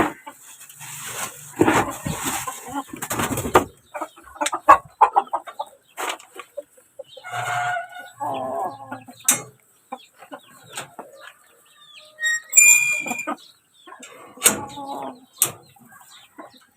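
Backyard pet chickens cluck and call in short scattered bursts in a small coop, near and moderately loud, with quiet pauses between calls and a dog barking at times.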